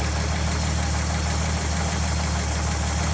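A car called Myrtle runs at a steady idle: a constant low engine hum and vibration with a thin high whine, fairly loud and even throughout, with no voices.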